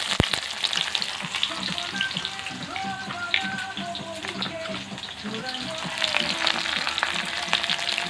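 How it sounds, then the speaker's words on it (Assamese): Chopped onions sizzle in hot oil in a pan while pork curry is being cooked, a continuous frying hiss dotted with sharp pops and crackles throughout. "পিঁয়াজ অলপ ঢালি দিব।"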